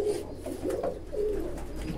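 Pigeons coo steadily and softly while feeding on feed cubes in a loft, with overlapping low rolling calls close by and no talk.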